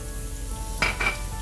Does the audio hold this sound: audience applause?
no